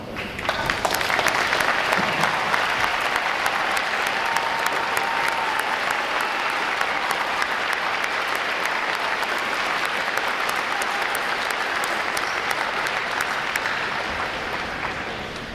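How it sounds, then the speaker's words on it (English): Large audience at a Navy recruit training graduation at Great Lakes applauding veterans, a broad sustained roar of clapping that swells quickly and holds evenly, slowly thinning toward the end. "Would all our veterans please stand so we can give you a round of applause"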